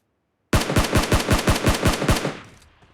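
Automatic gunfire in the mobile game PUBG Mobile: a loud, close burst of about ten rapid shots in even rhythm, then a fading echo tail, with no talking.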